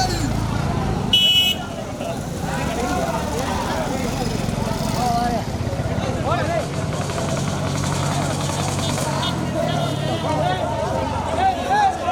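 A vehicle approaching along a road during an event in Theni district, Periyamadu, its engine rumbling amid a crowd with a brief horn toot, while someone speaks steadily over a loudspeaker.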